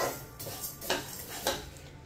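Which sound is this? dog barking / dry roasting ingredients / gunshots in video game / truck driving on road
dry roasting ingredients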